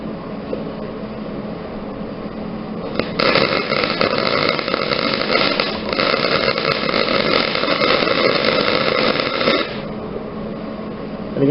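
A large MIG welding machine runs in a loud, steady crackling burst of about six seconds, with a brief break partway, standing out over a lower background hum before and after.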